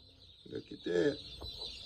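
A chicken clucking close by, a few short throaty clucks over a faint high background hum.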